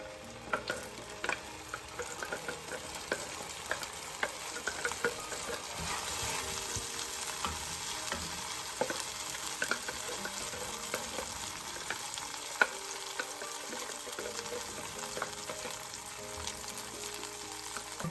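Onion, cashew, ginger and garlic paste fries in a pan with a continuous soft sizzle, punctuated by scattered clicks and stirring scrapes, moderately quiet and without talk.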